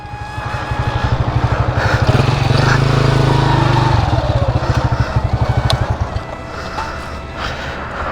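A stalling motorcycle is revved and kept running while being push-started, its engine pulsing loud and close, swelling into a higher rev, then chugging and fading toward the end.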